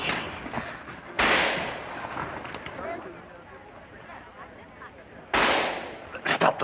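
Gunfire in a dramatic film shootout, two sharp, loud broadband blasts several seconds apart over a noisy battle background, with a few quicker cracks at the end.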